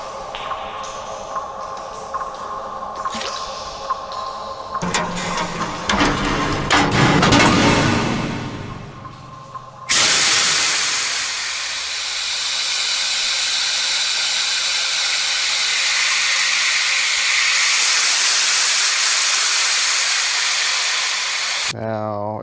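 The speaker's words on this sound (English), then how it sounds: "if that was vacuum sealed, it should be sucking stuff in, not ejecting stuff out" Air venting from a vacuum-sealed container, starting with rustling and crackling, then a sudden loud, steady broadband hiss that runs on for over ten seconds before cutting off.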